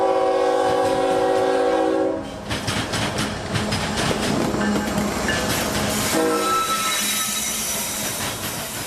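Southbound ethanol freight train on the S-Line sounds its horn in sustained chords, then rolls past with rumbling, clattering wheels and a second horn blast, fairly close and loud.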